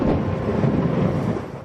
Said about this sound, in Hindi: ज़ोरदार बिजलियां चमकने लगी